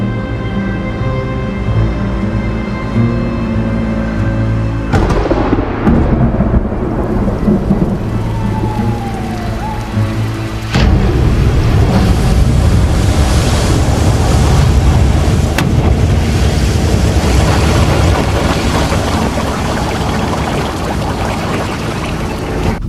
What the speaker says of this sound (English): Storm rolling in, first wave hits the seawall and the entire street goes under.